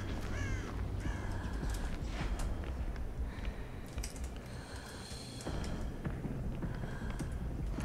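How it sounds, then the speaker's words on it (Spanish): Several crows caw repeatedly in the Dead by Daylight horror game, harsh calls spread through the clip over a steady ambient background with faint footsteps. "Lo que veo es muchísimos cuervos en esta zona."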